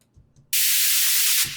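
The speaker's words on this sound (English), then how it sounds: "Noise spray is like kind of a SFX, it's just before the drop" A noise spray effect in a techno track bursts in suddenly as a loud, bright, sustained hiss after faint low thumps, lasting about a second before cutting back to a low pulse.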